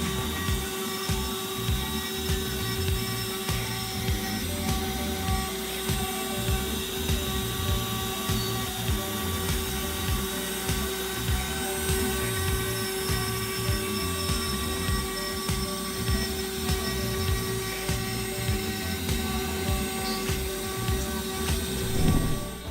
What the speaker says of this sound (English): This fully automated CNC lathe efficiently processes works with precision, enhancing productivity and ensuring consistent quality.